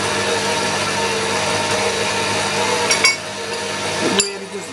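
A whisk or electric mixer beats old school dinner cake batter in a bowl with a steady continuous whir, then a couple of brief clinks of the utensil against the bowl near the end.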